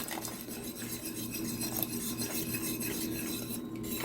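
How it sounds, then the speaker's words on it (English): A whisk works cornstarch into a boiling strawberry blueberry sauce in a pot, a steady close scraping and stirring churn with faint bubbling running continuously and no talk. "now that we've got it at a boil, we're just going to whisk."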